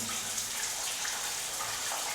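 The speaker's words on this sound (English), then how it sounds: "Look, see, I'm not in the shower and I turned it on." A hotel room shower running with no one under it, a steady hissing spray of water drumming evenly and continuously, fairly quiet and heard alone without talk.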